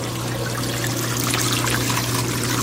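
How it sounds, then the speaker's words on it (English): Water drains steadily from the hose of an Asko stainless steel dishwasher, a constant close pouring and trickling stream under a low mechanical hum. "I'll be emptying the water now. Here's the hose."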